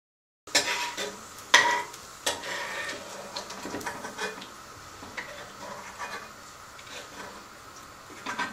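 Chopped garlic sizzles in a hot pan as a spoon stirs it, with sharp scrapes and clinks against the pan near the start, then a steady close frying hiss while preparing a creamy pesto pasta sauce.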